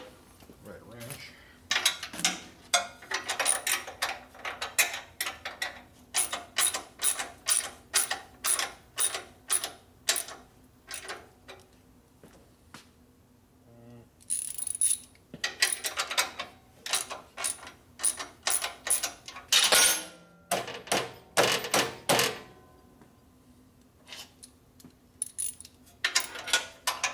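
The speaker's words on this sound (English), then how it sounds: "Right wrench." A wrench clicking and ratcheting while working on a 1973 Harley-Davidson Shovelhead 74ci kickstart custom bobber, with repeated rhythmic close-up ratchet strokes in runs and short pauses, and some talk.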